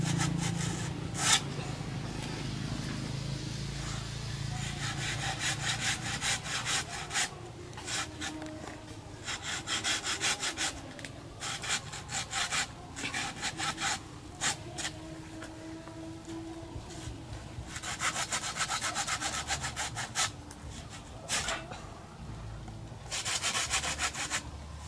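A small 30 cm hand saw rasps through a coconut tree trunk in repeated bursts of back-and-forth strokes, close by, with short pauses between runs of sawing.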